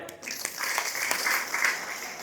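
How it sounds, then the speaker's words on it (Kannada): A crowd at a Kannada religious discourse breaks into steady applause, many hands clapping together in a dense, even patter that sounds somewhat distant in the hall. "ಜೋರಾದ ಚಪ್ಪಾಳೆ"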